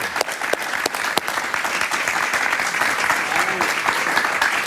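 Studio audience applauding a guest on a Spanish-language talk show, steady dense clapping filling the whole stretch at even loudness, with a few sharper individual claps standing out.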